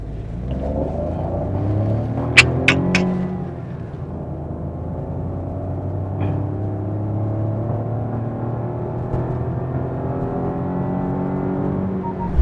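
Maruti Suzuki Swift 2024 with an AMT gearbox driving along, a steady low engine rumble with slow gear changes, brief clicks early on, no talking.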